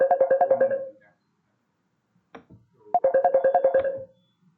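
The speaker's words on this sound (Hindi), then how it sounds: "तो सर को फोन भी आ गया है" A phone ringtone sounds during an online lecture, playing two loud bursts of rapid repeated electronic tones separated by a short pause with a brief faint noise in between.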